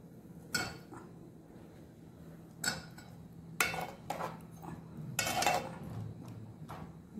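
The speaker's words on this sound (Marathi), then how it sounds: "याच्यात आता ही कापलेली बटाटे आहेत ती टाकून घेऊया आपण।" Cut potatoes dropped into a cooking pot for a village-style pavta, potato and brinjal curry, giving a few scattered clinks and knocks of metal and vegetables, with quiet pauses between.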